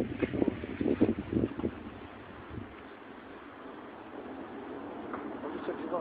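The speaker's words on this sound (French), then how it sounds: "il y a du vent" Blustery wind rushes and roars across the microphone, with voices talking briefly at the start before the steady whooshing takes over.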